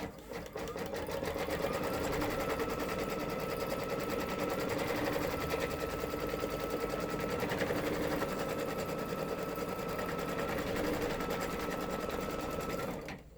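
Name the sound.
embroidery sewing machine stitching a placement circle on stabilizer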